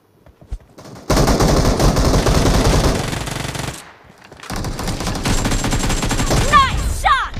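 Automatic gunfire in a PUBG Mobile (BGMI) team deathmatch rattles in loud, dense bursts, breaks off briefly, then resumes, ending with whistling, ringing effects.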